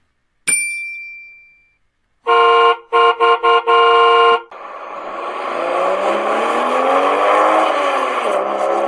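A short chime, then a car horn honks in several quick blasts, followed by an engine revving up and roaring loudly.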